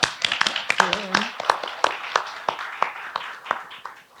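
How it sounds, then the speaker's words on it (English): Applause for a university's director of international affairs at an academic forum, a short burst of scattered, fairly sparse clapping in a hall. "So I'd like to give him big applause."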